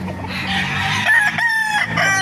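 A White Hatch gamefowl rooster, about eight months old, crows loudly in one sustained, wavering call with a harsh, strained tone that lasts roughly two seconds.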